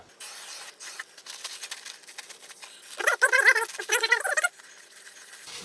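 Aerosol brake cleaner hisses in short spurts onto a greasy new brake disc on a Mercedes rear brake, close and fairly quiet, with a louder burst of spraying partway through.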